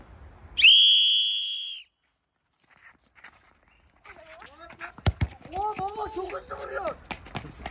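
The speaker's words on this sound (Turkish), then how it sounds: "Dur düdük çalıyorum." One sharp, sustained referee whistle blast sounds at a neighborhood football match, then after a short pause come shouting voices, thuds and scuffling movement.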